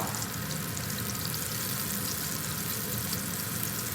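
Vegetable pakoras with onion, potato and eggplant frying in very hot oil, a steady loud crackling sizzle heard close up and alone, without any talking.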